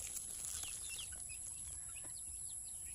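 Chickens in a rural farmyard during morning feeding, faint scattered clucks and chirps at a distance over a steady high-pitched insect-like hum and low background noise.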